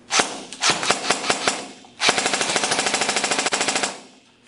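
A Lancer Tactical airsoft AEG firing close by: a short run of separate rapid shots, a pause, then a longer steady full-auto burst of evenly spaced cracks that slows and fades out, with no talking.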